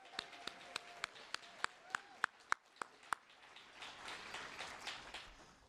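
Sharp, evenly spaced claps ring out in a quiet concert hall for Cantor Rico, about a dozen single strikes at a steady beat. They give way to a softer, diffuse patter of scattered applause.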